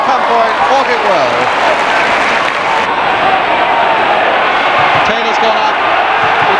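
A large 1970s football crowd roars steadily for West Ham, with a dense wall of cheering and chanting throughout and a commentator talking over it.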